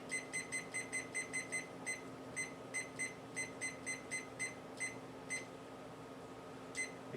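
A kitchen timer set for 20 minutes gives a quick run of short, bright electronic beeps as its buttons are pressed, then a few spaced single beeps near the end, close and clear over faint room hum.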